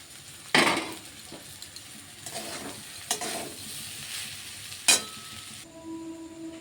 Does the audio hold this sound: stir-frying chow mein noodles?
yes